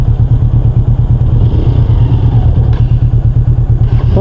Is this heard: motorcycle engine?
yes